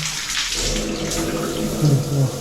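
Water pouring from a tap in a hotel in Vientiane, Laos, a loud close continuous rush that splashes and gurgles as it falls, with a brief voice underneath near the end.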